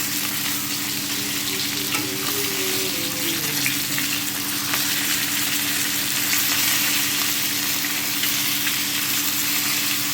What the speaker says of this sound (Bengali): মাছটা ভালো করে ভেজে নিয়েছি, নুন হলুদ মাখিয়ে ভেজে নিয়েছি।